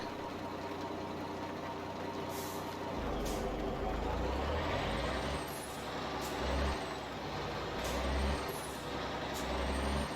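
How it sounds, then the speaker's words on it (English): A Mack R truck with its stock engine in American Truck Simulator rumbles steadily and loudly, rising as it pulls away from a stop, with air brake hisses and brief releases cutting in at intervals. "because I just like the sound of this truck"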